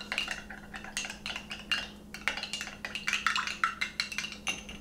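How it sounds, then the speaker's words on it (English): Lemon juice being mixed into mustard in a bowl, making a steady run of small clinks and scraping taps of a utensil against the dish, close but soft, over a low constant hum. "Okay, we're gonna just mix that in."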